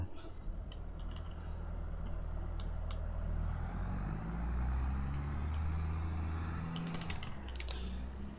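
In Farming Simulator 22, a tractor engine strains uphill on a Carpathian mountain map, a steady, low, heavy drone that swells slightly midway, with faint keyboard clicks scattered over it.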